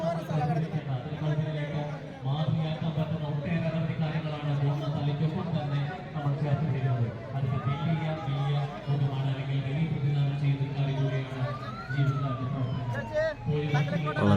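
An ambulance siren wails, rising and falling, as volunteers clear its way through a dense crowd at the BonNatale Christmas festival in Thrissur. Loud crowd chatter and voices continue throughout.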